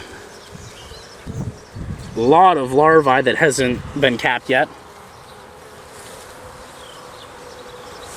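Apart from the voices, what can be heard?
honeybees buzzing on a hive frame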